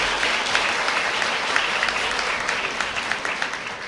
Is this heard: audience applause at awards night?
yes